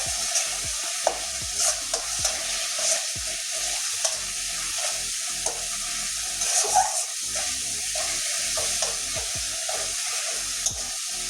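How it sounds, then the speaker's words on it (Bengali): Spice masala sautéing in hot oil for a Bengali doi potol dish, a steady close sizzle broken by repeated scraping strokes of a stirring spoon, with no voices. "মশলাটা আমার অনেকটাই কষানো হয়ে গেছে, মশলা থেকে তেলও ছাড়ছে"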